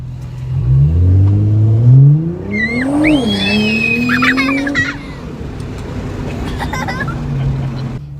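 A Nissan GTR accelerates hard from up close, its engine note climbing steeply through the gears in a loud, rising roar, with children's excited squeals over the top.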